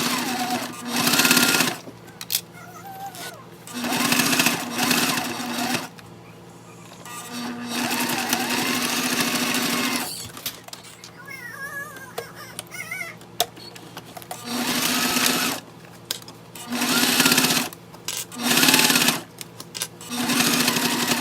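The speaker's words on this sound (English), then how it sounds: "we're going to go ahead and sew that down at 1/4 of an inch" A sewing machine stitches a quarter-inch seam on a waist bag panel, running in several loud, steady bursts of rapid needle chatter separated by brief pauses and handling noises.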